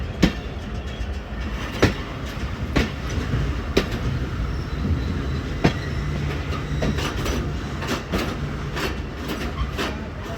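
Jaffar Express train running through Domeli on a foggy winter day as it crosses the 11 Up train, a steady loud rumble of rolling wagons with sharp rhythmic clickety-clack wheel beats over rail joints, close by and without talk.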